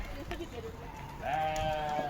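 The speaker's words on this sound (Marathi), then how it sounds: "तर इथं पहा शेळ्या मेंढ्या संध्याकाळी आलेल्या आहेत." Sheep and goats bleating at a river in the evening, with one clear, drawn-out bleat rising near the end over murmuring voices and outdoor background noise.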